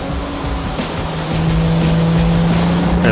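Two race cars set off together on an Omega-shaped track, their engines a loud, continuous roar with a rising pitch as they accelerate.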